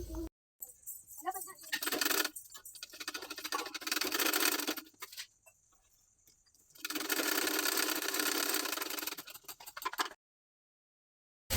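A sewing machine runs in bursts as it stitches tucks on a garment, a fast mechanical whirring rattle that stops for short pauses between runs and then falls silent at the end.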